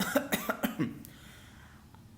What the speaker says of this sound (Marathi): म्हातारी खोकत खोकत म्हणाली